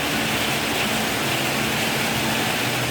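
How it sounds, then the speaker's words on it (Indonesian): Steady heavy rain hisses all around while a motorbike waits stopped on a street in Jogja, a dense, even wash of noise with no talking. "Wah kejebak hujan ini"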